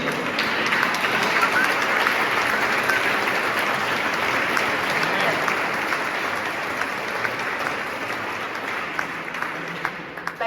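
Sustained applause from a large audience at a choral concert, dense and steady clapping that carries on without pause before easing slightly at the end.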